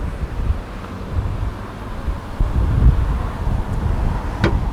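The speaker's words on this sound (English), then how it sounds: "it is very, very breezy" Strong seaside wind in Magaluf, Mallorca buffets the microphone with rumbling, uneven low gusts that swell and ease across the clip, no talk.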